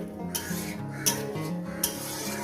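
Tomato and green chili being sautéed in a pan for paneer posto, heard as steady scraping and stirring with a spatula plus a few sharp clinks against the pan under a low sizzle.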